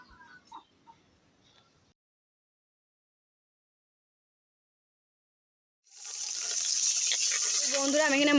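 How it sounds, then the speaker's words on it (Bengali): About 150 grams of rohu fish roe dropped into hot oil, a loud steady sizzle that starts abruptly after a few faint noises and a long silence, then keeps going strongly to the end. "এখানে আমি 150 গ্রাম মাছের ডিমটা এবার তেলের উপর ভেজে নেব।"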